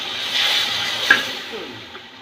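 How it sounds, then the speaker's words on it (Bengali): A little water is poured into a pot of beef and jackfruit curry, making a brief hissing splash against the hot masala that fades into a soft simmer. "সামান্য পরিমাণে পানি দিচ্ছি"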